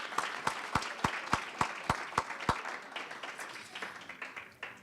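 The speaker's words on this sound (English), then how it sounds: "Let's give her a great round of applause." Audience at a Black History celebration event in Hoffman Estates claps for a singer: a handful of sharp, evenly spaced claps up front, then a softer scattered patter of applause trailing off, fairly quiet overall.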